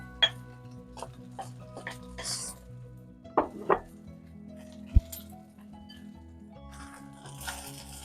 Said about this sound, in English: Now I put my vegetable in to make with my rice.